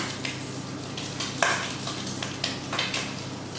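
Bacon frying in a pan until crispy, a steady sizzle under repeated stirring scrapes and a sharp metallic clink of a utensil against the pan.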